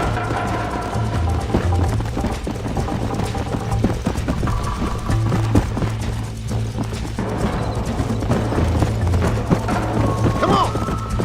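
A horse gallops in Red Dead Redemption with a steady clip-clop of hooves and an occasional whinny, set against music and game ambience while voices talk over it.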